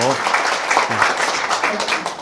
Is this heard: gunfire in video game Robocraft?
no